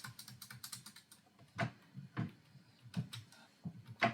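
Someone types a line of code on a computer keyboard, quick soft clicks at first, then slower, irregular keystrokes with short pauses, close and quiet.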